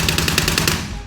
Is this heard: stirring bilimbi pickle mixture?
no